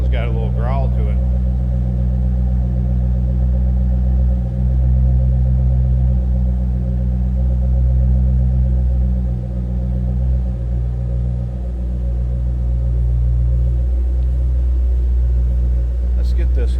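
A 2007 Ford Mustang Shelby GT500 V8 idles with a deep, steady exhaust growl, a loud, close, continuous rumble with no revving, while a voice is faintly present.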